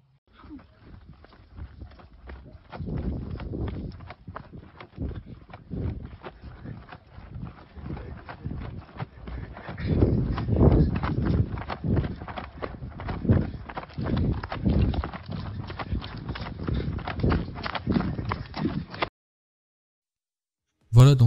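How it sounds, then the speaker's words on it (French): Footsteps crunch through an abandoned sanatorium, a long run of irregular, fairly close steps on a gritty floor, growing busier and louder midway before stopping abruptly. "il commence à entendre des bruits autour de lui, donc des bruits de pas, comme si quelqu'un se déplaçait"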